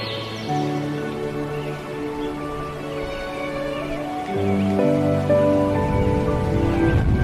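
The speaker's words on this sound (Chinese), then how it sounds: "下雨了" Steady rain falls in the background without pause, a soft continuous wash with no voices in it.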